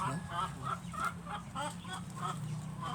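Rhode Island Red chickens, crossbred with Basilan fowl on a small chicken farm, cluck repeatedly in a steady, close rhythm over a low hum, with no talk.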